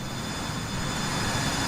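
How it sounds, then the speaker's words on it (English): A private jet's engines in a flight simulator video game give a steady, loud broadband roar with a faint high whine, unchanging over its short length and with no voices. "We've got a private jet over there making some noise"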